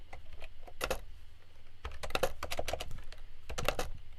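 Code is typed on a computer keyboard, with quick close clusters of key clicks and taps in short bursts separated by brief pauses, over a quiet background with no speech.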